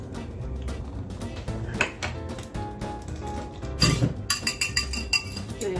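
A utensil mixing sriracha and mayonnaise in a bowl gives quick, light clinks and taps against the bowl, growing faster and more rhythmic near the end, with no talking.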